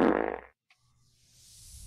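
A loud, rasping fart bursts out right at the start and lasts about half a second, followed by near silence and then a soft rising hiss of background noise.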